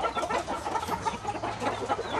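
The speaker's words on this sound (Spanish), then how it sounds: "Este es un gallito que trae Mendieta" Young rooster, a gift chick bred from a Chiapas gamecock, clucking and chattering steadily at close range for a couple of seconds, with soft overlapping calls and light background noise.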